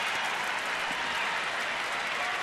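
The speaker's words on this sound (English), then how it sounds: "Kind of hear the buzz in the stadium." A baseball stadium crowd at a Braves game in Washington cheers and applauds in a dense, steady roar that holds at even loudness throughout.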